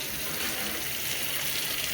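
Hot water at about 140 degrees pouring steadily into 16-ounce hard cider bottles, a continuous close hiss and gush of running water with no pauses and no voices.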